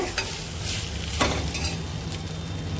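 Close-up sizzling and stirring in a pan of vegetables with chili powder, with scraping utensil strokes over a steady frying hiss.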